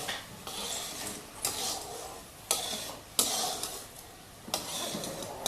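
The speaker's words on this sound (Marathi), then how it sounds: "त्याला हलवत राहा नाहीतर गुळ चिटकायची शक्यता राहते खाली कढईला" Grated fresh coconut and jaggery are stirred in a kadai, repeated scraping sweeps of a spoon against the pan in a slow, regular rhythm with brief metallic knocks.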